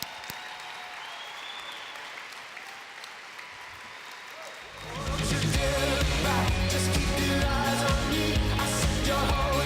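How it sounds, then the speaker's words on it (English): A large crowd bursts into loud, sustained applause midway, after a few seconds of quieter room murmur. "let's give them a big round of applause"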